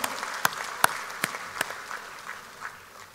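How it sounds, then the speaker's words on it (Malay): Applause breaks out during a UMNO president's policy address, with scattered sharp claps standing out over a softer, steady patter of clapping from a crowd. "Tepukan gemuruh untuk yang berada di bahagian-bahagian."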